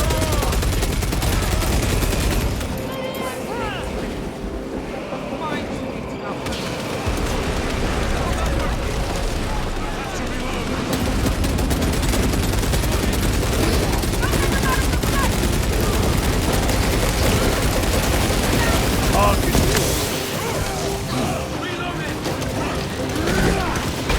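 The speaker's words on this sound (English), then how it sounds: "Small arms fire. It sounds close." Dense, continuous small-arms gunfire crackles close by in the video game Space Marine 2. The bursts layer into a constant roar throughout, with a voice speaking over the battle.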